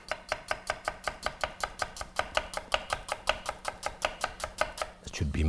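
A knife slices a peeled red onion very thin on a cutting board, making about twenty quick, evenly spaced taps, close and crisp, ending with a louder clatter.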